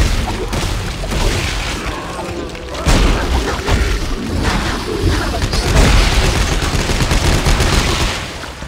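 Sustained SMG fire from the Dead Space 3 video game, dense and loud across the whole stretch, with heavy booming bursts and some speech mixed into the continuous clatter.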